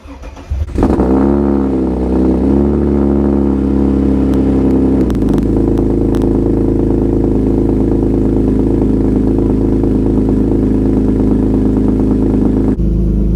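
An Alfa Romeo GTV engine cranks briefly, catches and settles into a loud, steady idle that runs for many seconds before cutting off, heard up close.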